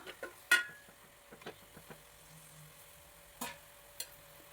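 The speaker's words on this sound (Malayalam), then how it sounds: "2-3 മിനിറ്റ് കഴിഞ്ഞ് ഒന്നും കൂടെ ഒന്ന് ഇളക്കിയിടുന്നുണ്ട്." A Kerala-style chicken and potato roast with tomatoes is stirred in a frying pan: scattered scrapes and soft knocks of a spoon against the metal, with a quiet sizzle underneath, close and fairly faint.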